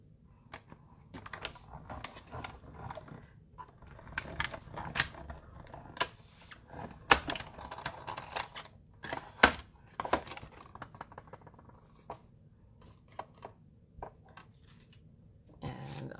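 A cut and emboss machine feeds card stock through its rollers for a papercraft skate piece, giving quiet mechanical clicks and creaks in scattered bursts with a low steady hum underneath.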